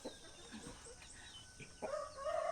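Chickens on a farm cluck and murmur faintly in the distance, with short scattered calls and a louder, sustained rooster-like call rising near the end; no one speaks.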